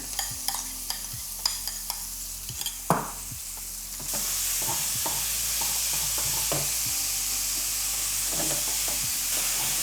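Chicken mince with turmeric fries in a pan, with a steady sizzle that grows louder partway through and repeated scraping strokes of stirring.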